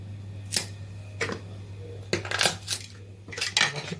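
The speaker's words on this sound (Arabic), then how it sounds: "انا هنا بفضي بقى كميه الفلفل اللي معايا كلها بالشكل ده" Peppers are emptied into a bowl with a handful of sharp clattering knocks and rattles spread unevenly over a few seconds, set against a low steady hum, with no talking.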